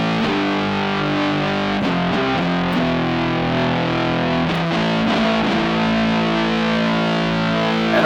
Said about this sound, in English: of the effects, we got distortion.